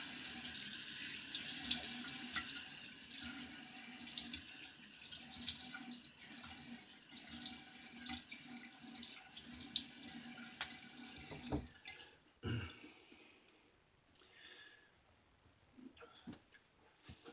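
Tap water running into a sink to rinse a shaving razor, a steady close splashing flow that cuts off near the end, followed by faint drips and handling sounds.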